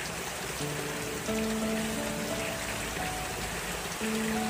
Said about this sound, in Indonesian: Hujan kembali turun